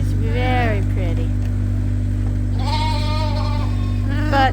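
A lamb on a sheep farm gives two wavering, nasal bleats with a short third call at the end, close and clear over a steady low engine hum.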